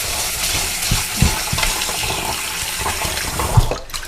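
Rice soaking in water being washed by hand before cooking biryani, with sloshing, splashing water and a few soft knocks against the vessel, close by and steady, without voices.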